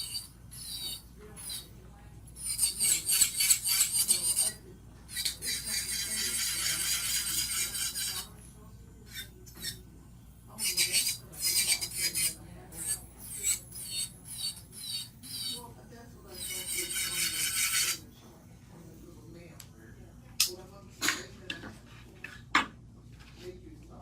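A high-pitched electric nail drill whirs in repeated bursts of buffing, starting and stopping, with brief quiet gaps between passes.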